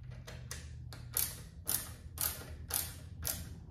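A mountain bike's front wheel spins while the front brake is gripped to realign a rubbing rotor, giving a series of soft periodic swishing scrapes about every half second with faint mechanical ticking, close and fairly quiet, no voices.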